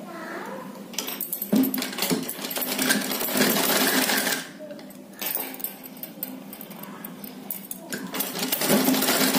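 An electric sewing machine stitches along the edges of a small dress for a Krishna (Laddu Gopal) doll, running in loud close bursts of rapid mechanical whirring with brief pauses between runs, without talk.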